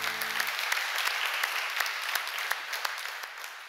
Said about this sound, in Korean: 하나님께 영광 박수 돌리십시다.